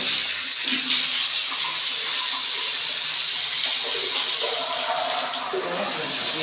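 Water runs steadily from a pipe after plumbing work, a continuous mid-level rush and hiss with no break and no talking over it.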